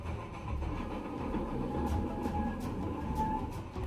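A line of runaway trucks rolls through a shunting yard, a steady loud rumbling clatter of rail wagons with metallic rattles and brief squeals running throughout, with no talking.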